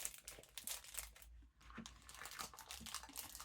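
Cling film or a piece of plastic bag is crinkled and scrunched up close by hand, with rapid crackling bursts broken by one brief pause.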